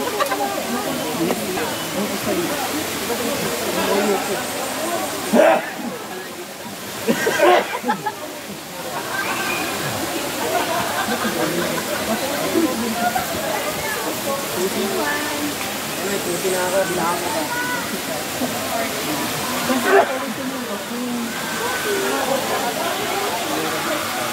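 Steady rushing water from a waterfall, Dampalit Falls in Los Baños, Laguna, fills the scene with a broad, constant hiss, while voices talk over it now and then.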